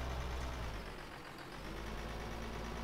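A tractor engine in the video game Farming Simulator 15 idles and hums at a steady low drone, continuous and moderately loud, with no speech.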